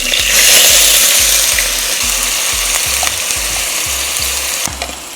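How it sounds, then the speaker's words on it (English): Finely diced onion and fresh garlic stir-fry in a pan, a loud, close, continuous sizzle with regular scraping strokes of a utensil, and no talking. "Stir fry the onion at least for 5 minutes."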